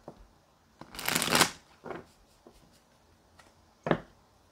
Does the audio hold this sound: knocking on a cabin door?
no